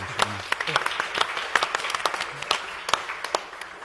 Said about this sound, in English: I think this also deserves a round of applause.